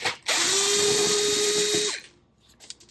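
A power drill spins out screws from the front bumper of a Porsche Panamera 971, a steady loud whine lasting under two seconds, followed by a brief pause and a short clack.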